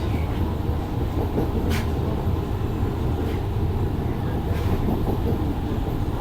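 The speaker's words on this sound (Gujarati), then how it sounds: "ट्रेन पहुंची गई" Vande Metro train 94802 from Bhuj pulling into Ahmedabad station, a steady, loud rolling rumble with faint rattles heard from inside the carriage.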